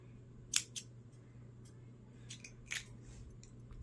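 Scissors snip a strand of cord while making a small ruffle bag, a few quiet, crisp cuts close to the microphone with short pauses between them.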